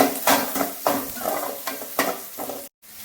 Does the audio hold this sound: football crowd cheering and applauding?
no